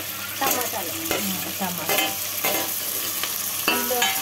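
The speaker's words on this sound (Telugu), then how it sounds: "టమాటా వేసుకోవాలి. కొంచెం వేగాలి" Tomatoes frying in a pan for tomato rice with onions and coriander, a steady close sizzle broken by repeated scraping stirs of a spoon against the pan.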